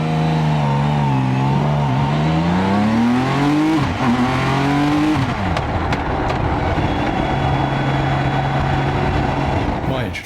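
A 2022 BMW K 1600 B motorcycle with a 1649cc inline six engine revs up and down loudly nearby, its smooth harmonic whine rising and falling, then settles into a rougher, steady run while someone talks over it.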